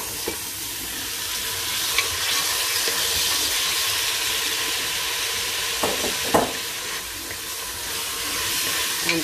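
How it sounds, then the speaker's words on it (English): Beans tipped into a pan of softened, sizzling Moroccan white bean stew, giving a steady close frying hiss with stirring and a couple of brief clattering knocks, no talking. "Then we're going to add the beans."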